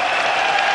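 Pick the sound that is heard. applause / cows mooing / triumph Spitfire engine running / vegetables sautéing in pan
applause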